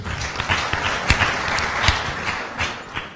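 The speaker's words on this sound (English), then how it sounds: "please let the House applaud for Imbuto Foundation" An audience at a national debate championship applauds, a brief spread of clapping from many hands, moderately loud with a few sharper claps standing out.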